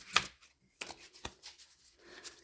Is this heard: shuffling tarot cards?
yes